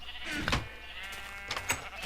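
Sheep in Minecraft bleat in two short, nasal calls, one early and one near the end, over a faint steady hiss.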